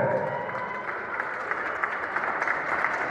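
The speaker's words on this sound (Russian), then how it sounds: "Ваши аплодисменты!" Audience applause at a combat sports competition final, continuous clapping with a few sharper individual claps standing out, moderately loud in a large hall.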